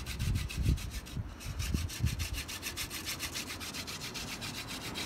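Hand brace drill bit boring into wood with a steady, close grinding rasp of continuous cutting turns, heard alone without talk.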